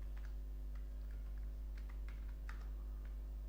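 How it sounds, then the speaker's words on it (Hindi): Someone types a number on a computer keyboard: a few faint, light key clicks in an irregular rhythm over a quiet electrical hum, with no talking. "तो मैंने लिख दिया 12।"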